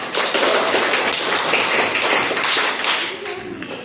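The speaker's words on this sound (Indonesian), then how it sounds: "Tepuk tangan untuk semuanya" Students in a school classroom clap their hands together, a loud, dense burst of clapping that fills the room before tapering off.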